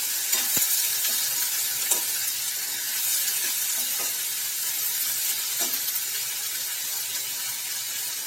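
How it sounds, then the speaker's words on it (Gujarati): Cauliflower curry with salt, turmeric and coriander-cumin spices is stirred in a sizzling pan, a soft continuous fry with a few sharp spoon scrapes and taps spaced through it. "ત્યારબાદ તેને બરાબર મિક્સ કરી લઈએ."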